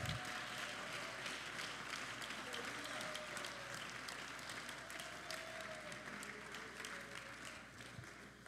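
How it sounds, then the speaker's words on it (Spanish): A church congregation claps loudly and continuously, a dense sustained roll of many hands, with faint voices and a few cheers threaded through it, tapering a little near the close. "Dale un aplauso fuerte al Señor"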